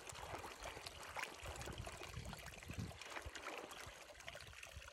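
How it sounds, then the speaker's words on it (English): Cold running water trickling and gurgling steadily near an old copper mine in the desert, a continuous close wash of small splashes with no voices. "Kind of weird there's running water out here."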